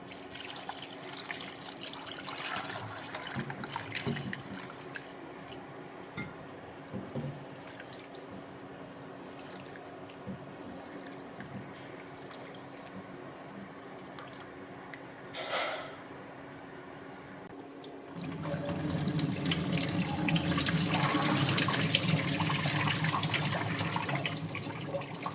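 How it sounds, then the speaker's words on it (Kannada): Avarekalu beans are rinsed under running water, with faint trickling and dripping for most of the stretch, then a louder rush of flowing water near the end. "ಈಗ ನೀರು ಹಾಕ್ಕೊಂಡು ತೊಳಿಬೇಕು"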